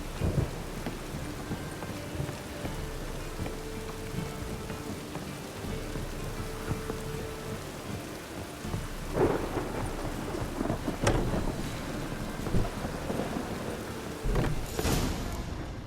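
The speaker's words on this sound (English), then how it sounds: "Rain again. Damn mages." Steady rain and rumbling thunder from a stormy scene in The Witcher 3 video game, with continuous rainfall throughout and louder thunder cracks building toward the end.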